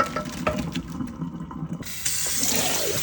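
Water runs from a kitchen tap into a sink while cooking, a steady splashing stream that briefly quiets and then returns fuller and brighter.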